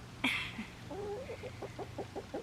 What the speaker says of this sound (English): As you can tell, there's one lonely chicken.